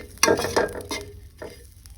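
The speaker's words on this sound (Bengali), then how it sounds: "শুটকিগুলো ভাজা হয়ে গেছে" Dried fish (shutki) frying in a pan, heard as a few close scraping stir strokes over a low sizzle, spaced unevenly and fading toward the end.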